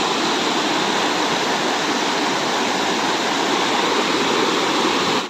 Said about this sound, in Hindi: का मस्त पानी है जाते और पानी आवाज़ तक एकदम मस्त आत हुई।